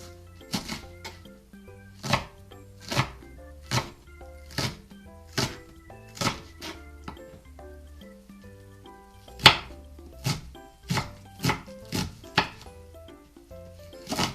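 Green onions are chopped on a cutting board with a small kitchen knife, giving a series of crisp, irregular knocks close by, some spaced out and others in quick pairs, with quiet pauses between.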